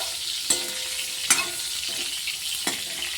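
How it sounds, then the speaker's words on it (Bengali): Pieces of salted potol sizzle steadily in hot oil in a kadai. Four distinct stirring knocks and scrapes sound over the close, continuous frying. "পটলগুলো এরকম একটু ভালো করে ভাজা হবে।"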